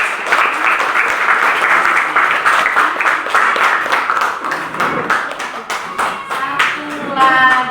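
A classroom of students claps together in steady, sustained applause that stays loud throughout, with some voices faintly mixed in near the end.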